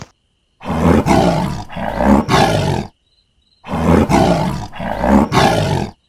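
Two pairs of deep, powerful tiger roars, each burst long and rumbling, separated by a brief silence; loud and close with no talking.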